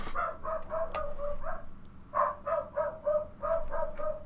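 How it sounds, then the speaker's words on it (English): A dog barks in a series of quick yipping barks, moderately near, in two bursts separated by a short pause, heard amid in-game ambience from the Third Age: Divide & Conquer strategy game. "Someone must have just come back, if the dog's barking."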